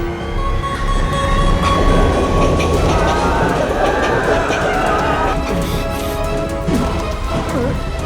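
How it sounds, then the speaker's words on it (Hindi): A train pulls into a station, a loud continuous rumble of wheels and carriages with squeals and clanks rising over it, heard up close with voices underneath. "ट्रेन आ रही है"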